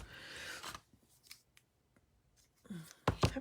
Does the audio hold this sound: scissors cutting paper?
yes